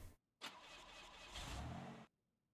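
A van engine in the BeamNG.Drive driving game cranks and catches after a short pause, running with a rough, rising roar for about a second and a half before cutting out abruptly into silence.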